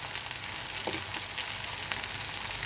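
Bitter gourd pieces with turmeric frying in a pan, a loud, dense, continuous sizzle with fine crackles and a faint scrape or two, close up and without voices.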